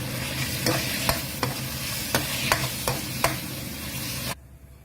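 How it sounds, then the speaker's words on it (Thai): Pork stir-frying in a pan with fish sauce and sugar, a steady sizzle broken by sharp regular scrapes of the spatula, close and loud before cutting off abruptly. "ใส่หมูแล้วพัดลง"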